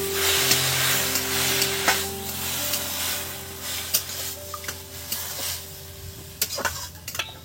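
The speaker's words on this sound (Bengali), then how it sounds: "এবার এর মধ্যে ধুয়ে শাকগুলো চাপিয়ে দেবো।" Washed leafy greens sizzle in hot oil in a wok as a utensil stirs and scrapes them, with intermittent sharp metal clinks over a steady close frying hiss.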